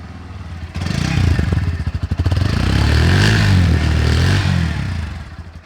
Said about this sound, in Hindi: अब आपको सुनाते हैं इसका एग्जॉस्ट नोट